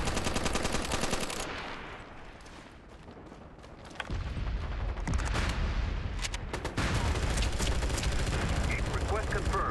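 Sustained artillery barrage and rapid machine-gun fire in the online shooter MAG, loud and dense throughout with a brief lull in the middle before heavy explosions and gunfire surge back.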